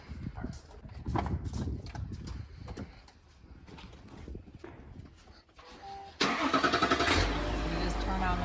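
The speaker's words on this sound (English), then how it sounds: "So now I'm just gonna go start this car and let it start charging that car." A GMC Yukon is started for a jump start: footsteps and handling noises come first, then the engine cranks and catches into a loud, steady idle that continues to the end.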